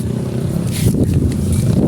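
A Honda Click 150 scooter engine, recently overhauled, runs close by with a loud, rough, rattling idle, its pitch holding steady with slight uneven surges.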